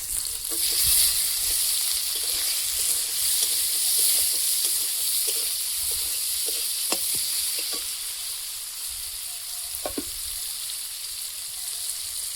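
Onion and panch phoron sizzle steadily in hot oil in a pan, a constant bright frying hiss with occasional soft clinks and stirring knocks, and no talking.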